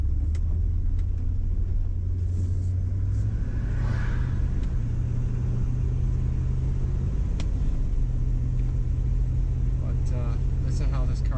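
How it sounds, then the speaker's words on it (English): A steady engine rumble and road noise fill the scene as a 1968 Dodge Super Bee drives along, loud and continuous, with occasional clicks and rattles. "Listen how this car goes down the road."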